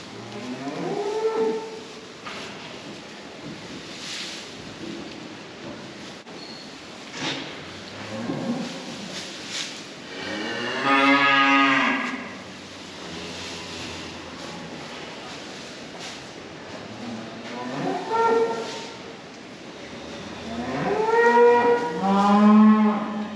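Cows moo at intervals, some distant and faint, others louder and closer, with long drawn-out calls over a quiet outdoor background.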